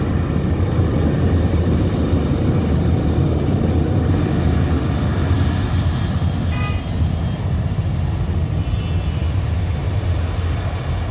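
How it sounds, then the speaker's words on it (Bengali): Emirates airliner engines roaring at an airport as the plane begins its takeoff roll, a loud, steady, broadband rumble that fills the whole stretch without pause. "দেখতেই পাচ্ছেন বিমানটি ছেড়ে দিয়েছে, আর কি সাউন্ড শুনুন"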